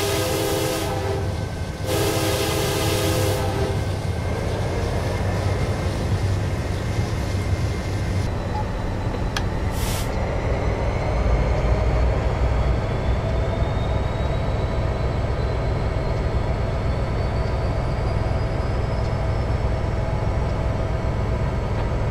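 Union Pacific SD70M freight train passing on Donner Pass in Train Simulator 2015, opening with loud horn blasts over a heavy continuous engine and wheel rumble that carries on steadily and close for the whole stretch.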